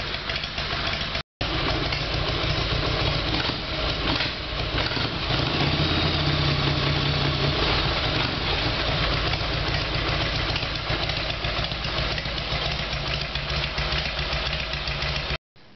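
Harley-Davidson Sportster engine idling after a carburetor repair, a steady loud lumpy rumble close by that runs continuously with a brief dropout near the start and at the end.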